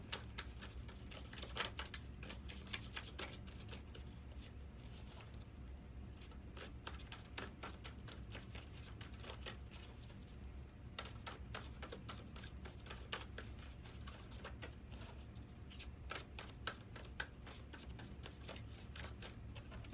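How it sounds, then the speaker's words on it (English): A soft, rapid riffling patter of tarot cards being shuffled, repeated in quick bursts with a faint low hum underneath. "let's finish shuffling these cards"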